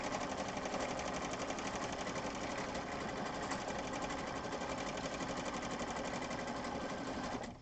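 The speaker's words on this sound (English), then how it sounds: "I'm sewing on one side, but when I get done, the stitches went all the way through." Steady, loud stitching from a sewing machine running through fabric, a continuous dense whir with rapid needle rhythm that holds evenly for several seconds and then cuts off abruptly.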